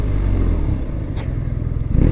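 A 2022 BMW R nineT Pure motorcycle's boxer engine rumbles loudly up close, with a deep throbbing idle and brief blips of throttle as the clutch is released, plus some mechanical clatter.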